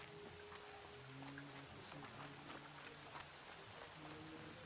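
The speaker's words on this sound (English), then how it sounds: "More rain. My boots will get damp." Steady rain falls in the Horizon Zero Dawn Remastered game world, a continuous hiss of drops running softly beneath low background music throughout.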